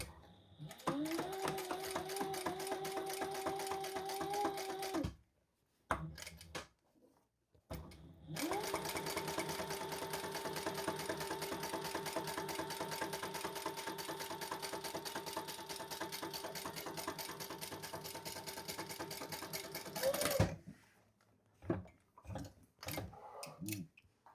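A sewing machine top stitches along a seam on a bag lining piece, running in two long steady mechanical bursts with a short pause between, then a few brief stops and starts at the end.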